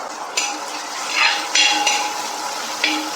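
Onion, ginger, garlic and green chili fry in a pan for a Kerala beef dish, giving a steady close sizzle broken by several sharp metallic clinks and scrapes of a spoon stirring against the pan.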